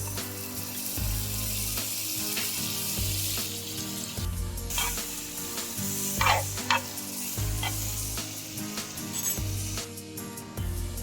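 Butter sizzles on a flat pan as pav bhaji is stirred and mashed, a steady frying hiss with scraping spatula strokes over a low background hum, close up.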